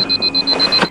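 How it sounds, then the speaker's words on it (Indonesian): An alarm clock rings with rapid, evenly pulsed high beeps, loud and close, lasting about a second. "alarm berbunyi."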